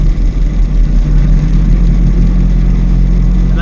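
A vehicle engine runs steadily while driving along a road, a continuous low droning hum with slight revving, close and loud throughout with no speech.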